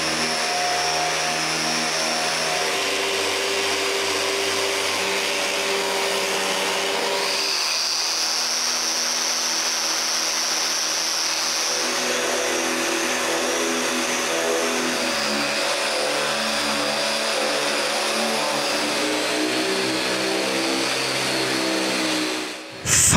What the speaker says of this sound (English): Sand everything up to the final grit of 220.